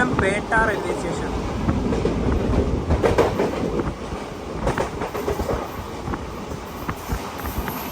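The Nagercoil Express runs through Thiruvananthapuram Pettah station without stopping, a continuous rumble with clattering wheels and wind, close and fairly loud, with a voice speaking over it.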